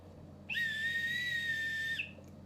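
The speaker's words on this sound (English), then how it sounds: "they will blow the whistle and organizer or tour guide will take their action" A single safety whistle blown once on an outdoor tour, a loud, steady shrill tone held for about a second and a half, then cut off, over a low background hum.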